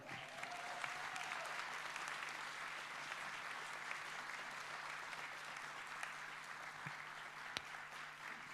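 An audience at a Rae parish anniversary celebration in Jüri sports hall claps steadily and loudly, a dense, even wash of applause welcoming guests to the stage that holds throughout.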